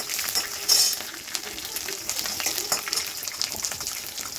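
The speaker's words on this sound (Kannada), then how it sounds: "ಎಣ್ಣೆಲಿ ಫ್ರೈ ಮಾಡಾದ್ಮೇಲೆ ಕಡಲೆಬೇಳೆ ನೀರಲ್ಲಿ ಫ್ರೈ ಆಗಬೇಕು." Chana dal frying in oil in a pan gives a steady hiss and crackle with bursts of sizzling and stirring scrapes, close and fairly loud, with no speech.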